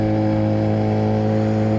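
A motorcycle engine revs steadily at close range, a strong low idle hum with dense harmonics holding across the whole moment, with no talking over it.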